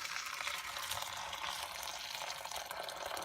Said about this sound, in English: I'm going to pour some boiling water